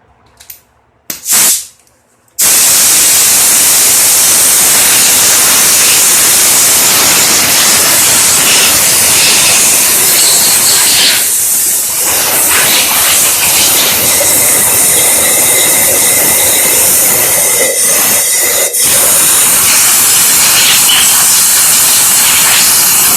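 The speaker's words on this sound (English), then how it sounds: "I'm just going to generally blow this thing off" Compressed air blasting crud off a Craftsman Bushwacker hedge clipper near its gas tank, a loud continuous broadband hiss that starts after a couple of brief puffs and runs steadily with slight wavering.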